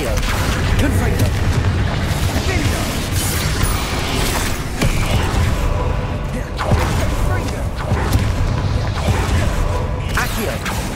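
Spell explosions from the video game Hogwarts Legacy, heavy booming blasts and mechanical rumbles stacking up in a dense, continuous barrage of combat effects.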